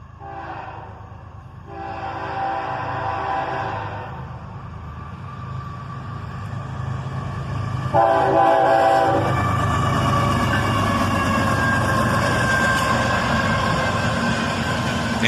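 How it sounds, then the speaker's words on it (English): Norfolk Southern locomotives pass, an ES44ACH leading a pair of AC44CWs, sounding two loud, close horn blasts amid a steady, heavy rumble of engines and rolling wheels. "we got a nice little horn salute with an ES-44 ACH leading, followed by a pair of AC-44 CWs"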